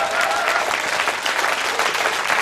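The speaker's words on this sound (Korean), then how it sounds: "박수 한번 치시오." Audience clapping at a traditional Korean chobun-gut ritual gathering on Jangsan Island, a dense steady wash of many hands heard close and loud, continuous through the whole moment without pause.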